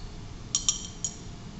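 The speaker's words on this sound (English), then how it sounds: "you can use the steel bar to mix it" A steel stirring rod taps against glassware while mixing a buffer solution in a chemistry lab, giving three light, bright clinks spaced apart over faint background hiss.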